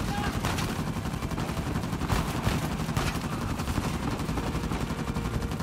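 A machine gun in Uncharted 4 fires in a loud, dense, nonstop stream of rapid shots, sustained throughout at close range.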